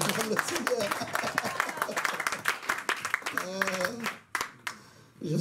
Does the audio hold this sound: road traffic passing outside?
no